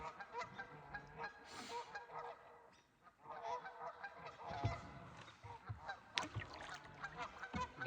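A flock of geese honks repeatedly, loud overlapping calls with a short lull in the middle, close by and continuous.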